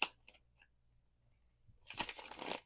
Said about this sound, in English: It's like hard to shuffle them when I ask that.